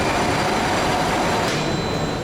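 A modern Tashkent metro train rumbles steadily from inside the car, a loud and continuous roar with a faint squeal from the wheels on the rails.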